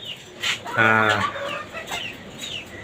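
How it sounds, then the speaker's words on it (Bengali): A nearby white tiger-breed rooster on a rooftop chicken farm gives a few short, throaty clucks, one louder harmonic call in the middle, with no talking. "সাদা টাইগার মুরগি"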